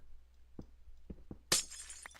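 A glass pane shatters in Minecraft, a bright burst of breaking glass after a few soft taps, short and close with no talk.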